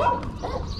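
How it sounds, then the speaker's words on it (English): A white dog barks close by in a short run of yips and bow-wows, loud and near, with a slight whimpering edge and no talk over it. "This one's got a funny, really funny bark, the white one."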